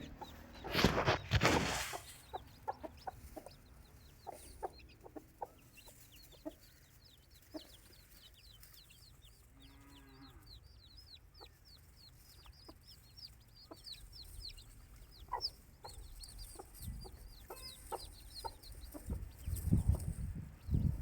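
A hen clucks in short, repeated notes while her five newly hatched chicks peep high and thin throughout, with a louder rustle near the start and end.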